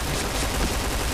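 SMG fire in the shooter game Point Blank comes as a loud, dense, continuous burst of rapid shots with no pauses.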